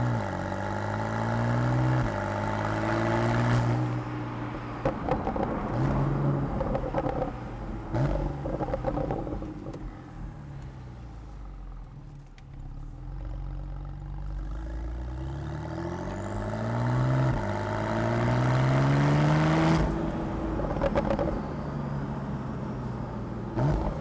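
A Porsche 911 Carrera GTS twin-turbo drives slowly through a village, its exhaust burbling and grunting as it pulls away twice, fading to a quieter rumble in between, with no talking.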